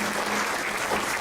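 A church congregation bursts into sustained, dense clapping, loud and steady throughout, with no speech heard over it.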